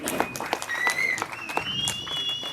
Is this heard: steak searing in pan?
no